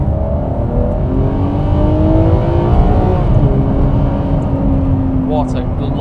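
A Ferrari 599 GTO accelerates hard on a dry open road, its V12 engine rising in a loud, sharp rev from inside the car with climbing harmonic tones, holding strongly for several seconds.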